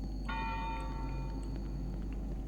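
Church bell tolling in the horror video game Cry of Fear: a single clear metallic strike with a long ringing decay over a steady low game ambience, no voices.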